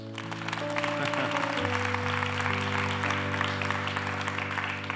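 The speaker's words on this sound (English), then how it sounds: "let's give the Lord a hand clap" Church congregation clapping steadily for several seconds under sustained organ or keyboard chords, a dense, even wash of applause filling the room.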